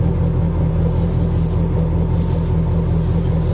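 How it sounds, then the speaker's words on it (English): A deep, steady Chevrolet engine rumble idles close by in a 1926 Ford Model T Tudor hot rod, a lumpy low throb with no talking over it. "Ford car, Chevy engine."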